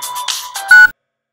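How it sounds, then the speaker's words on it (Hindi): A mobile phone ringtone plays loud and close, a short bright electronic melody of a few notes that stops abruptly. "किसका तो भी फोन आ रहा रे तेरे को"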